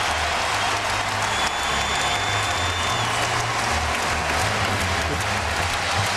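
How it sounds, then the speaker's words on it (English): A packed Allen Fieldhouse crowd stands and cheers at a Kansas basketball game against DePaul, a dense, steady roar of applause and shouting that holds loud and continuous throughout. "they are standing and cheering here at Allen Fieldhouse"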